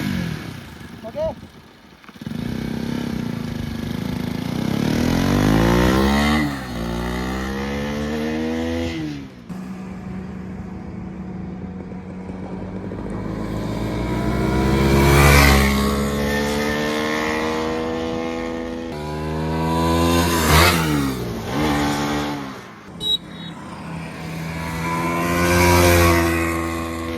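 A five-year-old Bajaj NS200 motorcycle with its stock exhaust is ridden on a road, the engine rising and falling through repeated revving pulls and gear changes, loud and close, with a voice talking briefly over it.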